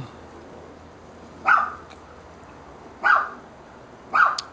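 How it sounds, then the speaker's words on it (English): Neighbor's dog barking outdoors, three single barks spaced about a second and a half apart, moderately distant over quiet background noise. "Neighbor's dog."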